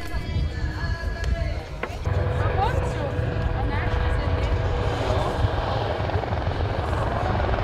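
A Swiss sightseeing helicopter on a round flight over an American car meet in Willisau gives off a steady, loud, close rotor and engine drone that fills the whole stretch without letting up, with crowd and event noise mixed underneath.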